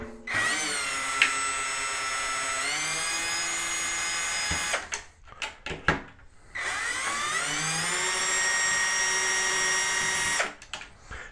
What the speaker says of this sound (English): I am gonna set my drill to the low setting so that, it'll just move a little bit slower